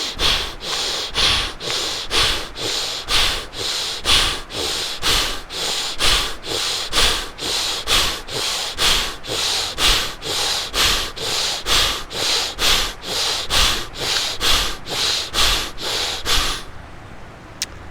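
Rapid, forceful yoga breathing exercise with the chin tucked toward the neck, heard as a steady run of loud, evenly spaced sharp breaths, about two per second, close to the microphone for most of the clip, then stopping.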